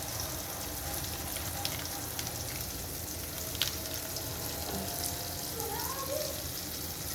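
Ginger garlic paste sautés in a pan with a continuous, fairly quiet frying hiss and light stirring, with a faint voice murmuring briefly toward the end.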